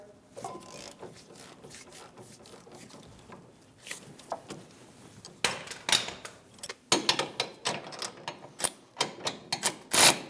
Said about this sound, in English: we're going to remove the 2 caliper bolts. We're going to get them both loose to start.